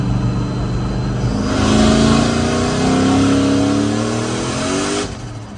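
A 600 hp OBS drift truck pulls hard in third gear, its loud engine note rising steadily for several seconds before cutting off abruptly near the end.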